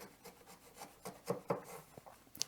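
A Walke Moore 3500 router plane takes fine trimming cuts on a wooden tenon. Quiet, close, scratchy strokes come in an irregular series, with a few sharper ones standing out.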